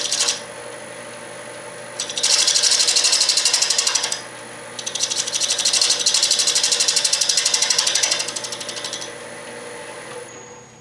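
Wood lathe turning an offset pocket mirror while a tool hogs away material, giving loud, rapid rattling bursts of cutting at about 2 to 4 and 5 to 9 seconds over a steady motor hum.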